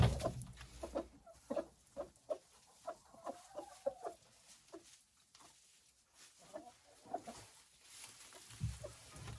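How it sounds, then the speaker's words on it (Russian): A rooster and hens in a backyard coop at a country dacha let out soft, repeated clucks, a steady run of short calls heard close by but quiet, with no one talking. "Молодец петух. Это он реагирует, когда опасность."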